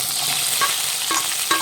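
Chopped okra crackles and sizzles steadily in hot oil in a pan, a dense close frying hiss with a few stirring clicks.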